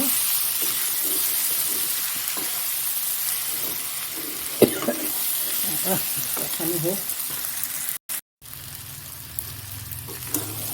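Masala sautéing in a pan for an egg curry, a steady close frying sizzle with scattered stirring scrapes, broken by a short dropout near the end before the sizzle resumes with a low hum.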